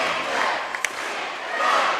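Two rival basketball crowds at a sub-district championship game roar and chant against each other, a dense, steady wall of cheering with one sharp shout cutting through.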